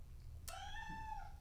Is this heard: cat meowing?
yes